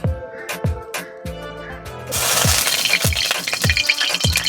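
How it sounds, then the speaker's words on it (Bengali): Mustard oil poured into a hot wok, a broad hissing wash that swells in over the second half, with sharp intermittent knocks and clatter near at hand and no talk. "কড়াই দিয়ে দিচ্ছি সর্ষের তেল"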